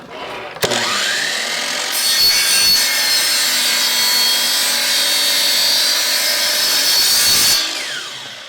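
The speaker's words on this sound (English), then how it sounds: "So now that we have our miter saw that has made these vertical cuts," A power miter saw bites into hardwood flooring, its high whine holding steady for several seconds through a single loud, close cut before spinning down.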